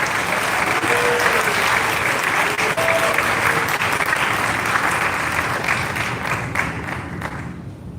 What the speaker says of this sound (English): Let's give a round of applause to Nurten Serdar Mersinlioğlu